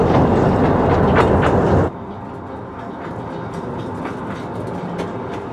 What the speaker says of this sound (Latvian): tvaika lokomotīvas nedaudz jaunākā radiniece dīzeļa lokomotīva